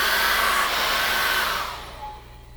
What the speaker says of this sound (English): Now, I'm just going to pick up my hairdryer.